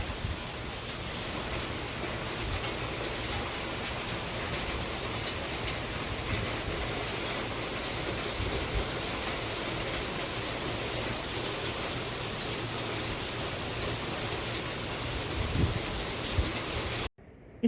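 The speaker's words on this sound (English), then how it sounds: "It's raining right now," Steady rain falls outdoors in a dense, unbroken hiss that stays even and fairly loud throughout, cutting off abruptly at the very end.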